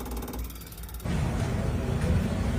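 Hand-pumped fuel injector tester working on an injector, a rapid mechanical ratcheting clatter that goes quiet briefly, then returns as a denser, steady pumping rattle, close and fairly loud, no talking.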